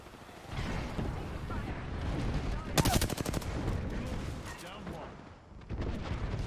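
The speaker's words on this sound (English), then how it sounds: "Calling the airstrike." Gibraltar's airstrike in Apex Legends rains down as a dense burst of rapid explosive impacts and booming gunfire, loud and chaotic, peaking midway amid ongoing battle noise.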